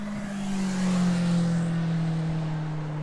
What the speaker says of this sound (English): Just wait for the motorbikes to roar past.